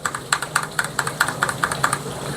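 Keystrokes on a mechanical keyboard fitted with new white PBT XDA-profile keycaps, a close, regular series of roughly a dozen soft clacks at a quick even pace, with no voices.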